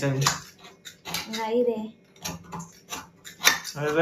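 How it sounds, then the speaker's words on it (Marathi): A knife cuts through a block of jaggery (gur) for puran poli, giving a few sharp scraping and cracking strokes close by while voices talk over and between the cuts. "तुम्ही बघू शकतात कसे कापतात ते. असं गुळ कापताय."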